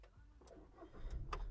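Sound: car engine starting

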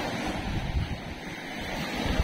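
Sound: sea waves breaking on the shore

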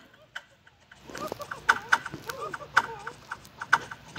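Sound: rooster clucking in a video game, Roblox

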